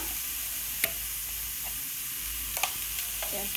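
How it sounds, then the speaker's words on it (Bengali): Chopped onion fries in hot oil with a steady, hissing sizzle that holds throughout, broken by a few light clicks of a stirring utensil, close and moderately loud. "তারপর দিয়ে দিলাম পেঁয়াজ কুচিটা"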